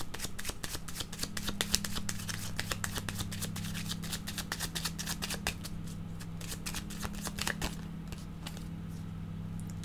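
Cards being shuffled and drawn for a card reading, a long run of crisp rapid flicks and riffles close by, thinning out toward the end over a low steady hum.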